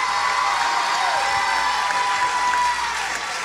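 A church congregation claps and cheers during a lively praise moment, a steady wash of hand claps and crowd noise filling the room at an even level throughout.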